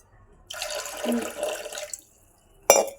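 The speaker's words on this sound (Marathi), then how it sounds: "एक तांब्या पाणी घातलेलं आहे" Water pours steadily for about a second and a half into a metal pressure cooker, followed by a short sharp clatter after a pause.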